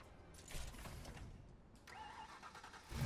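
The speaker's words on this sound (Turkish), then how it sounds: "Şu egzoz olayını göstereceğim." Stock exhaust on a car in Need for Speed Heat, an engine starting and idling with a low rumble, then the tone shifts and steadies near the end, fairly close and loud with no talk.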